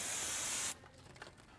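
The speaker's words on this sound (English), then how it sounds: "we're just gonna give this a spritz with brake clean" Brake cleaner sprayed onto a front brake of a 1999-2005 Porsche 996 911: a short, loud, close hiss lasting under a second that cuts off abruptly, followed by faint handling noises.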